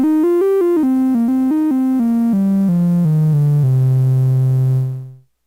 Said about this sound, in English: how the triangle sounds on the Polivoks